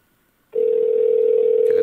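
An outgoing call placed from an iPhone's integrated dialer to an office: after half a second of quiet, a loud steady ringback tone starts and holds, with a faint change at the very end.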